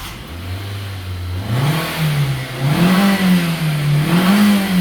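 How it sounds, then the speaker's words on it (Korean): A car engine cranks and starts, then revs up as the accelerator is pressed during a fault check on a car that runs but won't move; the low engine tone climbs in steps and holds, close and steady. "시동을 걸어 볼게요."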